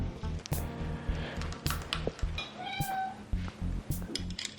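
A cat meows repeatedly in a home kitchen during cooking, a few close mewing calls over soft clattering and faint background noise, with quiet talk mixed in.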